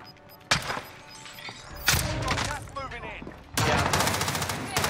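Lapa SMG gunfire in Warzone during a Halloween event, heard as loud, close bursts of automatic fire separated by brief pauses, with faint game noise in between.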